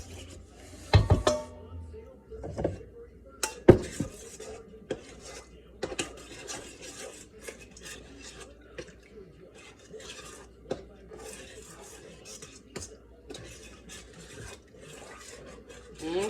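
Sourdough starter, yeast and honey being stirred in a bowl, a soft scraping and rubbing with occasional clinks of utensil against the bowl, quiet and close.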